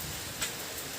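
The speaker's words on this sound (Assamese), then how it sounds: "এতিয়া বৰষুণ দি আছে হ'লেও" Rain in Cherrapunji, Meghalaya, a soft, even hiss of steady rainfall, faint and continuous over a brief moment with one small patter.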